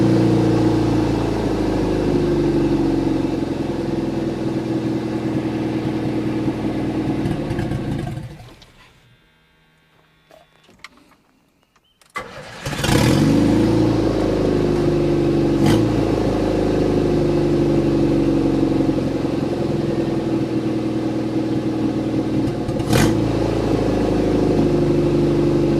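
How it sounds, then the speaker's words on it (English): An S10 pickup truck engine idles loudly and steadily nearby, cuts out briefly mid-way, then restarts and settles back into a smooth, even run. "Engine sounds good. Runs nice and smooth."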